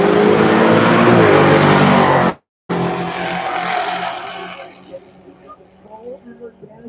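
At a Mickey Thompson Turn & Burn drag racing event, race cars including a 1969 Camaro roar loudly at launch with dense engine noise, cut off abruptly for a moment, then fade into the distance.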